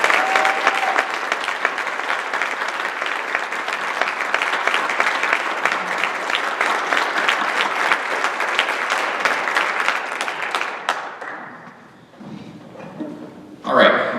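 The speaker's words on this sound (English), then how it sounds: "Let's do one more round of applause for our BHS Orchestra seniors." A high school orchestra concert audience applauds the orchestra seniors, a loud, dense stretch of clapping that carries for about ten seconds before fading out, followed by quieter room sounds.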